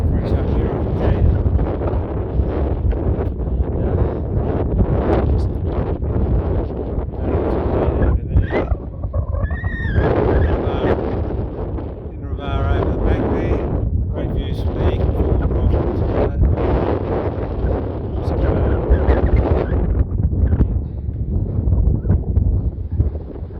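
Strong wind buffets the microphone on an exposed alpine mountain summit during a solo hike, roaring steadily throughout with constant low rumble, while someone talks over it.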